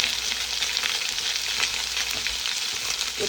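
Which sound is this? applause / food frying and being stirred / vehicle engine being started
food frying and being stirred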